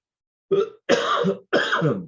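Three harsh coughs, close and fairly loud, the first brief and the next two longer and rougher, separated by short silences.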